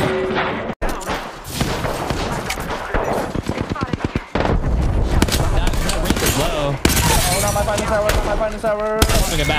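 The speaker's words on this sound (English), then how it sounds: "Opening fire on the enemy over there." Rapid automatic gunfire and impact sounds from the battle royale video game Apex Legends in a competitive grand finals match, loud dense bursts and shots layered with game effects and occasional voices.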